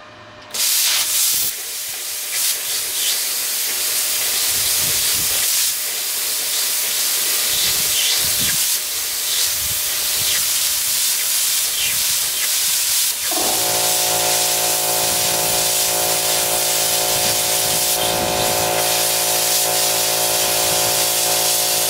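Titanium Plasma 45 plasma cutter running at 35 to 40 amps: a loud, steady hiss of air throughout, with a humming electrical tone joining partway through.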